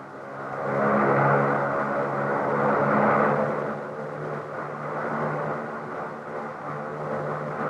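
A Grumman OV-1 Mohawk reconnaissance aircraft flying home drones steadily with a hazy, rumbling engine tone that swells twice and then settles, heard at moderate distance with no other sounds.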